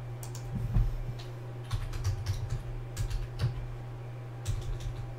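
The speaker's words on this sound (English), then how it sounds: "Man, I'm struggling typing tonight so far." Typing on a computer keyboard during a basketball card case break, in quick bursts of close, crisp key clicks separated by short pauses, over a low steady hum.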